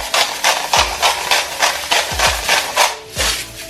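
Rock salt being ground with a hand salt grinder over a pot of vegan butternut squash and chickpea curry; a close series of about ten quick rhythmic crunching grinds with a few low knocks in between.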